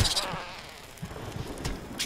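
A drone bee buzzes in the survival video game Smalland: Survive the Wilds, a faint, continuous insect drone running under the game's ambient sound for about two seconds.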